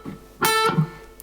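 A single guitar string is bent in a guitar solo and lands slightly flat. The note is short and fairly quiet, rising on the bend, then a brief low thump follows.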